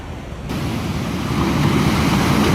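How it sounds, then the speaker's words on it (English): A loud, broadband roar of massive ocean waves surging through a resort, with wind, swelling slightly, with no voices. "Massive waves surged through a resort, washing away everything in their path."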